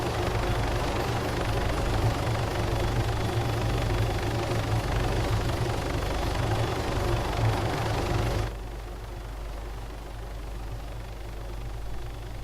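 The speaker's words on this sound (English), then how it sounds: "this bloody helicopter is far too loud" A helicopter in the military video game ArmA 3 drones as a loud, steady rotor and engine roar that suddenly drops to a quieter, muffled level partway through.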